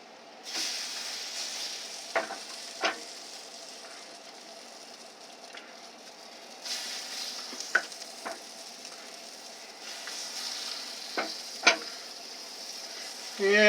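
German potato pancakes fry in ghee in a pan, giving a steady soft sizzle with scattered clicks and scrapes of a utensil against the pan.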